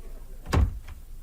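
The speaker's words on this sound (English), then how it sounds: "The door is closed." A door being shut in an office: a single dull thump with a brief rattle, close by, followed by a faint after-knock in a quiet room.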